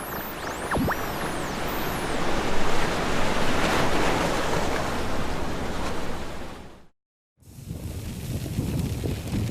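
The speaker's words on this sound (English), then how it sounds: "these waves have no land mass to crash into, so they really can build to quite substantial sizes" Heavy ocean surf rolls and roars continuously at high volume, a broad wash of breaking waves with wind over the water, then cuts briefly to silence before the surging roar resumes.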